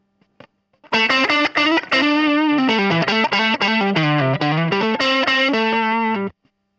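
Distorted electric guitar through a vintage-style 1x8 combo amp simulation in Amplitube, with no reverb, plays a sustained, funky melodic phrase of bending notes and chords that starts after a brief pick noise and stops cleanly.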